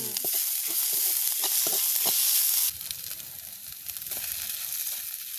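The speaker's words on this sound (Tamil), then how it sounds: "வெங்காயம் உள்ளி சித்தல் மிளகாய் கடுகு எல்லாம் போட்டு நாங்கள் வதக்கி எடுத்து அதுக்கு போடுவோம்" Onions, garlic, chilies and mustard seeds sautéing in hot oil: a loud continuous sizzle with intermittent stirring scrapes, dropping to a quieter sizzle midway as stirring continues, no voices.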